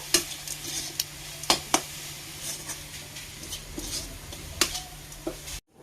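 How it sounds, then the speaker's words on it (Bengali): Water bubbles at a steady boil in a pot being readied for rice-flour pitha, a continuous close bubbling hiss dotted with sharper pops and a few clicks, ending abruptly. "এই যে বন্ধুরা, জলটা ফুটে গেছে।"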